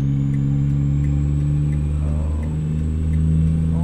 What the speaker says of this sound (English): Putting ATS engines in my ETS trucks just so I can hear them